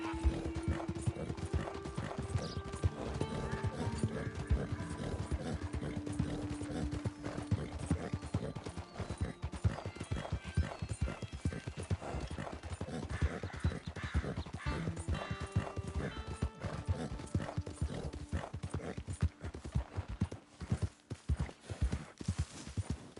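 Horse hooves clip-clop in a steady rhythm while riding in Red Dead Redemption 2, close and continuous, with an occasional whinny and ambient game sounds beneath.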